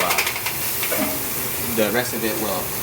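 Steak sizzling in a hot pan makes a continuous bright hiss and crackle, close and fairly loud, with a voice talking over it.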